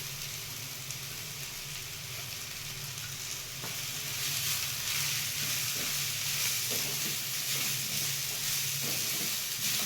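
Green beans fry with raw coconut in a pan, giving a steady, close sizzle that grows a little louder partway through, with faint stirring scrapes on top.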